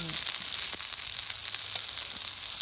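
Meat sizzles on an outdoor grill in a home garden at early evening, a steady close crackle and hiss running without pause, with no talk over it.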